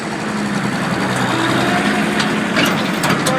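A Kubota M4050 two-wheel-drive tractor engine runs steadily in high gear reverse, a loud, even diesel drone close by, with no speech.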